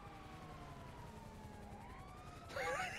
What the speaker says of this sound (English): I can hear the siren.